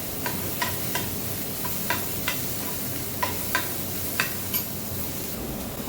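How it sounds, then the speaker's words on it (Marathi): Carrot and capsicum frying in a pan for homemade veg frankie filling, a constant hiss with regular light spatula taps ticking through it, no voices. "त्याच्यामध्ये टाकायचे गाजर आणि शिमला मिर्च. आणि याला पण छान फ्राय करून घ्यायचं."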